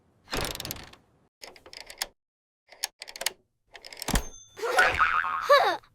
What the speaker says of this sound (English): Tighten the bolts.